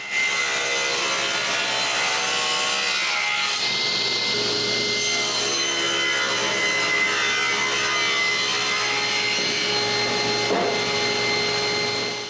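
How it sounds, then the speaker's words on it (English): A table saw cuts a rabbet along wooden workbench stretchers, a continuous loud whining rasp of blade in wood running the whole time with slight shifts in pitch as the board feeds through, no voices. "I cut it on the table saw."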